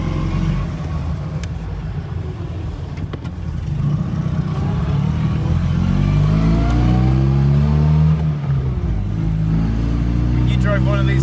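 A car engine lubricated with olive oil runs steadily nearby with a deep rumble, rising and falling as it is revved several times, while people talk over it.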